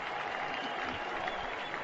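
Crowd of about 36,000 at a Rangers vs. Royals baseball game cheering and clapping for pitcher Sam Dyson, a steady distant roar of applause throughout.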